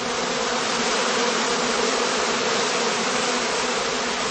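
A honeybee swarm cluster, formed as several small casts join together at a heather skep apiary on heathland, makes a dense continuous buzzing hum, steady and close, with no pauses.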